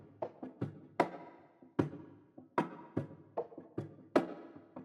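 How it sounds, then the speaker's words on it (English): A drum loop plays in an experimental multi-genre music sample: punchy kicks and snappy hits in a steady groove, each with a decaying tail, clear and alone with no voices. "Then I added in this drum loop from Lynette"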